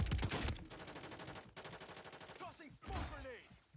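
Gunfire rattles through a Call of Duty Warzone 2 match, starting with a loud burst of shots, then a denser stretch of rapid fire and a final flurry of blasts, with game voice chatter layered over the action.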